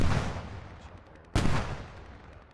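Gunfire in a military multiplayer video game from a 30 mm vehicle cannon firing from the hills, two booming shots about a second apart, each with a long rumbling tail.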